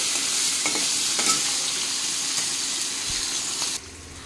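Chopped onion hits hot oil in a pan and sizzles steadily, a close, bright crackling hiss with light stirring, cutting out abruptly near the end.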